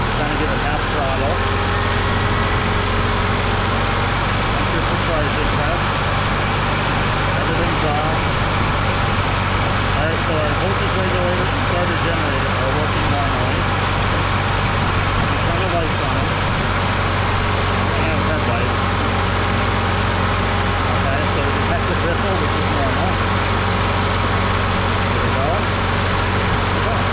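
A 2004 EZGO TXT gas golf cart engine running close by with a steady buzzing idle and partial throttle throughout, while a person talks over it.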